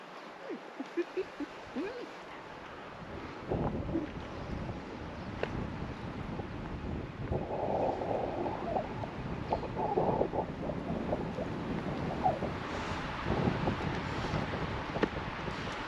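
Wind buffeting a microphone outdoors along a Montana cliff edge, a steady rumbling roar that swells and gusts throughout, with people talking faintly beneath it.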